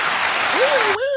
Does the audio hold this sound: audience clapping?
yes